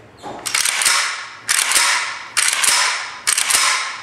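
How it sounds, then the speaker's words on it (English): Bolt of an AK-47 WASR 10/63 rifle worked by hand four times, each a sharp metallic clack and rattle followed by a ringing slide, close and loud in an even rhythm. "Right now the bolt is working perfect."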